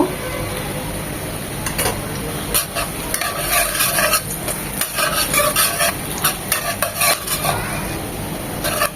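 Onion and garlic frying in mustard oil for an Ilish fish-head and Malabar spinach dish, a steady close sizzle with repeated clinks and scrapes of a spoon stirring against the pan.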